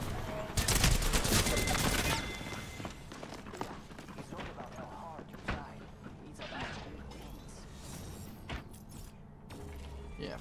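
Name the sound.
shotgun fire in the video game Apex Legends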